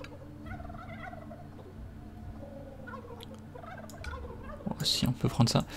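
Chickens cluck in a video game, a brief burst of clucking near the end over a quiet, murky background of game ambience.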